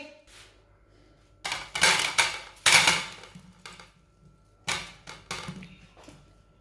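Snacks clatter onto a plate in a home kitchen: a quick cluster of sharp clinks and taps, a pause, then a few more knocks of food and dish, close and fairly quiet with no talk.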